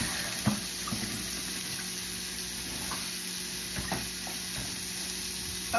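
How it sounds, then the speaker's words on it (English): Kitchen tap water running steadily while hands are rinsed, a broad constant hiss with a few small splashes and knocks, near and alone. "Doing a hand rinse."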